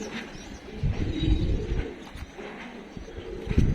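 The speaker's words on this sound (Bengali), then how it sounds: "আজকে কবুতরটি ছাড়লাম, শুধু মাদি" Female pigeons let out of their loft after a week of rain coo repeatedly, low soft throaty pulses close by in a steady, loosely rhythmic series.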